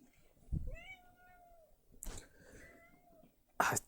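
A cat meows several times, close and fairly quiet, in drawn-out cries separated by pauses, with a couple of soft thumps and rustles between them.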